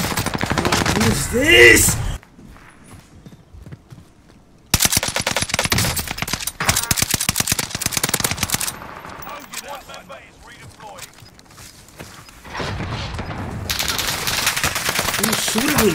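Rapid automatic gunfire rattles in long bursts in Warzone on the Rebirth map, with H4 Blixen shots among them. The firing is loud and close, with short pauses between bursts, and a player's voice talks over it.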